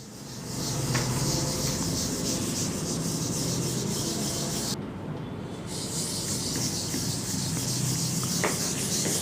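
Steady, continuous rubbing of an eraser wiping writing off a classroom board, close and fairly even, with a brief pause midway before the scrubbing resumes.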